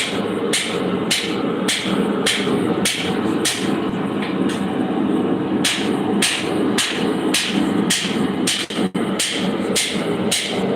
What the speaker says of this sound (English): we can watch the Goodemoot use his favorite wrench. It's called a hammer